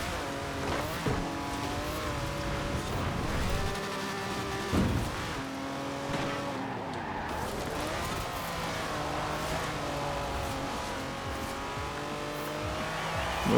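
An off-road vehicle in Forza Horizon 4 racing in a winter championship, engine droning and shifting pitch as it revs up and down, with tire noise and a few thumps, steady and close, no talking.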